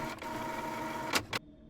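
Office printer running in a horror video game call center, a steady mechanical whir with two short louder feed bursts near the end before cutting to quiet.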